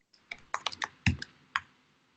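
Keys clicking on a computer keyboard while HTML is typed for a custom form, about seven sharp, separate strokes in an uneven rhythm, close and fairly quiet, with no talking.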